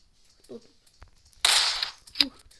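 A few sharp gunshot cracks ring out, one long loud burst and a shorter pop after, with faint scattered noises between.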